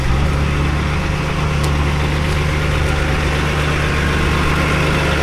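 A hose humper tractor working a dragline job in a corn field idles with a deep, steady diesel rumble, loud and close throughout, with no voices over it.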